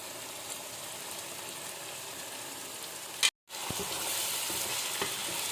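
Chopped green chillies added to a spiced minced meat and pea masala in a karahi, a steady close sizzle with a brief dropout and then sharper, louder frying.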